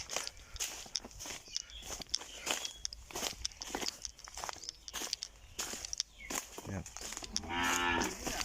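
A cow moos at the end after falling into a garden pond, a long, loud low call, preceded by splashing, trampling and shuffling sounds close by.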